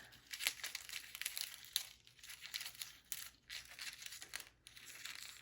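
Scissors cutting a small scrap of gold Deco Foil transfer sheet, giving close, crisp crinkling and slicing bursts that come in quick irregular runs with short pauses, quiet and with no talking.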